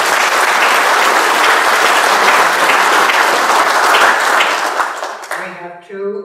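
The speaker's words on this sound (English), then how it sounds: "Let's give these two brethren a round of applause" Loud, dense applause from an audience at a 150th rededication ceremony fills the room for several seconds, then tapers off into scattered claps and a few voices.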